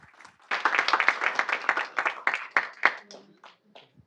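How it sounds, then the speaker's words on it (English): A room of people at a city council meeting claps in a brisk, loud burst of applause, distinct claps blending into a dense patter for a few seconds before tapering off to a few scattered claps. "Let's give them another big round of applause"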